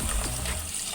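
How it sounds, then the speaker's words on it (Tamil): Water poured into a pot of mutton for biryani, a steady close gushing, trickling pour lasting about a second with no talk over it. "மட்டன் வேகத்துக்கு மட்டன் முழுகளவு தண்ணி ஊற்றிக்கலாம்."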